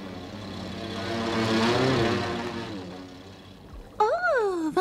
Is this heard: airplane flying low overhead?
yes